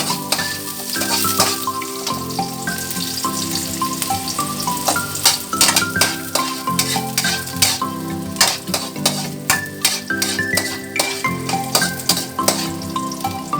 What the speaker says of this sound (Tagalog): Pag mainit na ang oil, ilagay na ang hiniwang sibuyas.